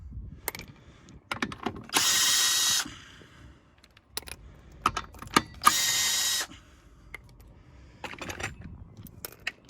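Impact wrench removing wheel nuts on a Ford Mondeo Mk4, two loud whirring bursts of about a second each, with ratcheting clicks and clinks of nuts and tools in between.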